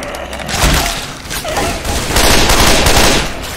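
Heavy, loud gunfire rattles in Left 4 Dead 2 on The Passing campaign, a dense, continuous barrage of rapid shots with booming impacts, close and overwhelming.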